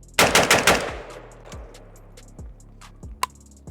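Rifle shots fired through a Bosnian Tabuk muzzle brake at an outdoor range: a loud rapid burst of about five cracks followed by a few sharper, more spaced single shots, each ringing briefly.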